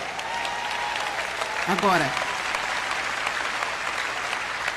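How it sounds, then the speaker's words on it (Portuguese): A large church audience applauds with dense, steady clapping at a sermon, while a voice speaks briefly over it. "Bata palmas para você."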